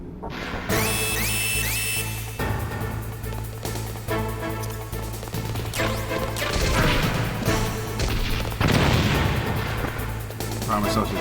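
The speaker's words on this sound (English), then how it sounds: "About to use up all my stun grenades. Get ready. Here it is." Stun grenades going off in the video game Metal Gear Solid, loud crashing bursts stacked over busy game music and effects, one blast after another with no break across the whole stretch.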